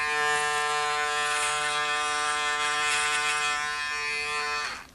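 An electric shaver buzzing steadily through a shave, a close, loud and even motor hum with a rich harmonic whine that runs unbroken for several seconds before cutting off at the end.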